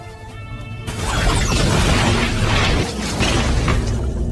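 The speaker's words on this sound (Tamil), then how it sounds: "நாங்களே இந்த இடத்தை வெடிக்க வைக்க போறோம்." A bomb set to blow up a building goes off in a loud explosion with a sudden burst and a sustained roaring, crackling rumble of debris lasting several seconds after a brief tonal intro.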